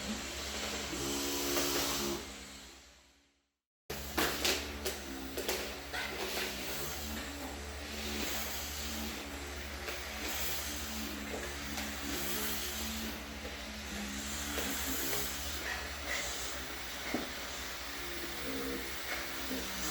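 A Salav vibrating steam mop runs steadily across a floor, giving a continuous close motor hum and buzzing vibration with steamy hiss; it cuts out briefly near the start, then resumes.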